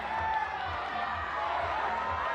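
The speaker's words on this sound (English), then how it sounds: "Crowd getting behind Daniel Woods here." A crowd at the Bouldering National Championships semifinals roars in support of a climber: steady, dense crowd noise that fills the whole stretch at an even, fairly loud level, with no single voice standing out.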